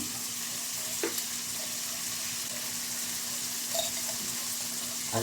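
Bagoong shrimp paste frying with softened tomatoes in a pan for binagoongang bangus with eggplant, a continuous close sizzle with a couple of brief stirring knocks, no talking.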